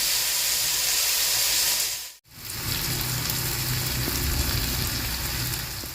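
Onion, tomato, green chilli and ginger sautéing in a pan, giving a loud, steady hiss and sizzle that briefly cuts out before resuming.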